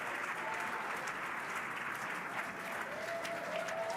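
Steady applause from a large crowd, continuous and even throughout, with no pauses.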